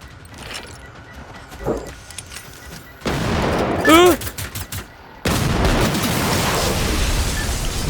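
Gunfire and a grenade blast in the war-robot shooter Generation Zero, loud bursts of shots with a broad explosive roar and ringing tail, sustained noisy crackle afterward; voices and talk run underneath.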